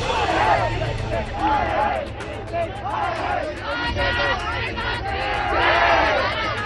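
A crowd of protesters gathers at Jantar Mantar in Delhi demanding justice: loud, dense babble of many raised voices, with shouting and chant-like calls rising and falling continuously and close by.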